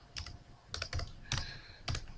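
Address being entered on a computer keyboard: quiet, close bursts of quick keystrokes in small clusters, separated by brief pauses.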